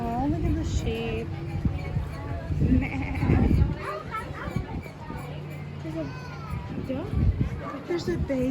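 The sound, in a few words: sheep bleating at a family farm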